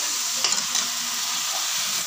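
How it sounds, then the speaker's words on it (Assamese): Tomatoes frying in a pan for an Assamese-style fish curry give a steady, loud sizzle, broken by a couple of brief stirring scrapes near the start, with no talk. "আৰু বিলাহীখিনিও মই একদম পুৰা গলি যোৱালৈকে ভাজি থাকিম।"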